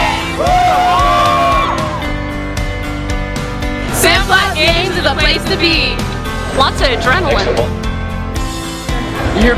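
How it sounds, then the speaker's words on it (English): A crowd at the Simplot Games track meet yells, whoops and cheers loudly in rising and falling bursts, with shouted voices standing out close by over a steady background roar. "You hear people cheering when you're running"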